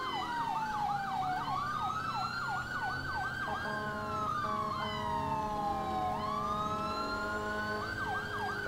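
Emergency vehicle siren in GTA 4, a loud close wail cycling through rapid yelp bursts and a long falling-rising sweep, continuous over engine rumble.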